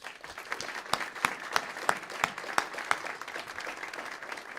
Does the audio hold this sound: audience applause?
yes